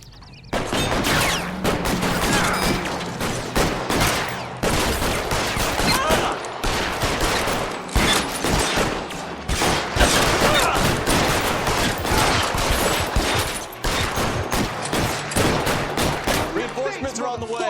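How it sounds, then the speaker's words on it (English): Dense, loud video-game gunfire aimed at a car, with rapid bursts and sustained automatic volleys almost without pause, plus faint voices in the background. "Fire a warning round."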